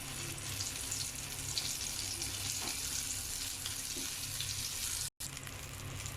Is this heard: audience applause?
no